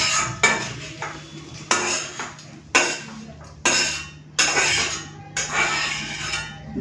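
Metal utensils scrape and clink against a pan while lifting out fried bitter gourd and potato, a series of sharp, separate knocks and scrapes at close range over a steady low hum, with no talking.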